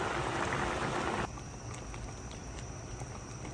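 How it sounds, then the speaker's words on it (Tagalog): Pieces of eggplant, cauliflower and bell pepper drop into a boiling pot of salted water for black-eyed beans; a dense bubbling roar fills the first second, then settles into a quieter, steady simmer with small splashy ticks. "Ilalagay ko na po ang ating mga gulay."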